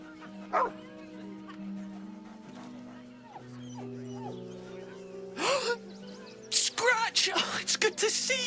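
A dog in the Baldur's Gate 3 video game gives scattered short barks, yips and whimpers against a low ambient music bed, with excited bursts near the end and character voices talking in between.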